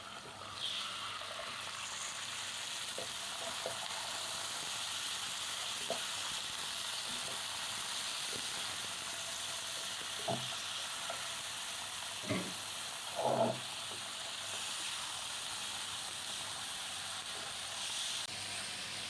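Chicken frying in a pan while cooking stuffed karela keema gives a steady, soft sizzle, with a few brief clinks and stirring scrapes near the end, no voices over it.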